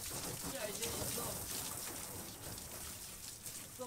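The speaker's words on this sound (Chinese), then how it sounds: "啊，下雨天。" Steady rain falls over the Zhongli night market, a continuous close hiss of drops that runs the whole time with faint voices mixed underneath.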